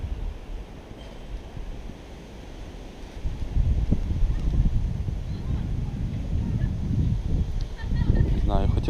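Strong gusty wind buffets the microphone beside a lake in Sweden, a heavy low roar that swells louder halfway through, with faint voices in the background.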